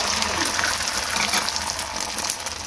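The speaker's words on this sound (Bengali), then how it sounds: "এবার দেবো সাদা তেল।" White cooking oil pours into a pan in a short, steady gushing stream, close and fairly quiet, with no talking.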